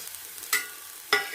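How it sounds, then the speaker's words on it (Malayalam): Onion, ginger and garlic sautéing in a pan give a soft steady sizzle, broken by two sharp scraping stirs about half a second apart. "ഇനി ഇതൊന്ന് നന്നായി ഒന്ന് വഴറ്റിയെടുക്കണം."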